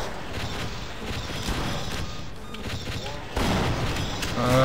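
Gunfire in the video game Half-Life during a battleships-versus-monster fight, a dense barrage of shots and booms with mechanical clanks, loud and continuous, intensifying toward the end.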